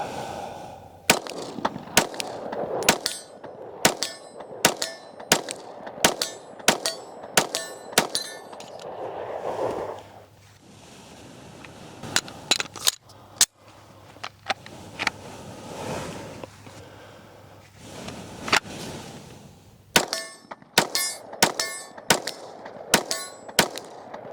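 Rost Martin RM1C pistol fired at an outdoor range, sharp loud shots in quick strings with short pauses between volleys, some spaced single rounds, no talking.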